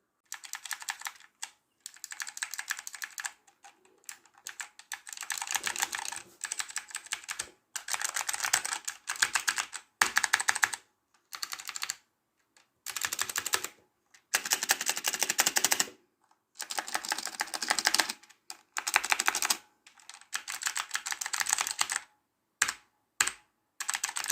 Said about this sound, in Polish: Przejdźmy do kliku.